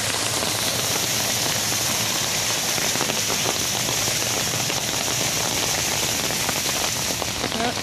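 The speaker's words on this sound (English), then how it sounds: "we've got yet another little notch where it shall continue to cascade" Runoff cascading down Ellicott City's new outdoor stairs makes a constant close hiss and spatter, broad and unbroken, with faint crackling splashes and no voices.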